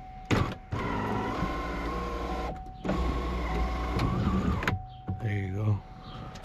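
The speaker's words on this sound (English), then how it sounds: "Now let's see if the sunroof works" A car sunroof motor runs under test, whirring in a few sustained electric bursts separated by short pauses and clicks, close by, with a brief spoken remark.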